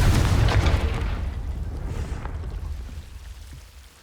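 A Confringo fire-blast spell from Hogwarts Legacy goes off as one heavy, booming burst near the start, its rumbling body carrying through and then slowly fading over several seconds.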